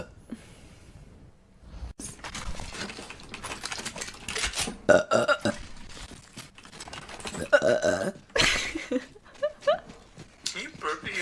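Several loud burps from a woman playing a video game, scattered through the clip between bursts of her talking and game sounds, some close and abrupt.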